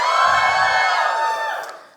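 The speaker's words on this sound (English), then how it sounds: "So all the women in the house, give me a cheer." Women in a live science slam audience cheer together, a loud, high-pitched collective whoop and shout that swells, holds for over a second and then fades.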